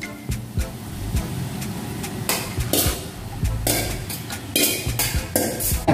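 Chopped jackfruit is stirred into a coconut milk masala, with repeated scraping and clanking of a spoon against the pot, fairly loud and uneven.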